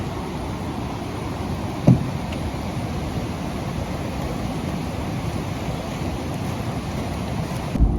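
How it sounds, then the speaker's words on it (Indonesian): Heavy rain pours steadily in a Kalimantan forest, a dense continuous hiss of drops at close range with a faint distant thump, no voices. "Ini kondisi hujan sangat lebat ya."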